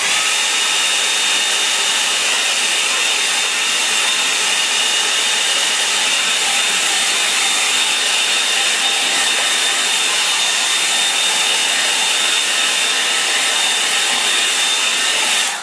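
A hair dryer blows steadily over a watercolour painting of a brooding sky, a loud, continuous whooshing hum that holds an even level from start to finish with no pauses or voices.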